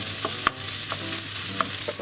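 Cooked rice soaking up oil and sauce in a frying pan for Japanese garlic fried rice gets stirred: a few quick scraping strokes over a low, constant sizzle, close and with no voices.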